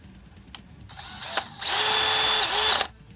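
A power drill drives bolts into the landing gear of a coaxial concept RC aircraft: a few short clicks and brief bursts, then a loud, close, steady high whine for about a second before it stops.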